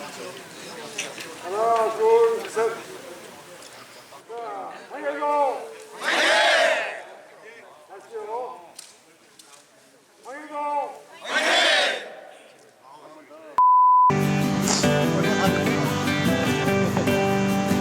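A crowd at an autumn hiking meet of Hwanghae Province natives in 2023 erupts in several loud bursts of cheering and clapping between stretches of an announcer talking, with music starting at the very end.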